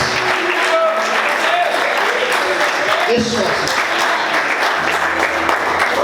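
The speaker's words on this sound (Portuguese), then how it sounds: "Pode aplaudir Jesus bem forte" A church congregation applauds loudly and continuously, with a voice speaking over the clapping near the end.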